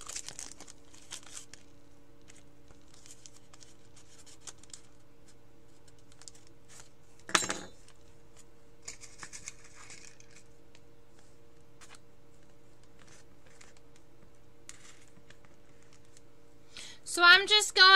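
Paper strips being pinned down over the spread wings of Death's Head Sphinx Moths: quiet, sparse crinkling and rustling over a low steady hum, with a sharper paper rustle midway and a denser burst of crinkles at the end.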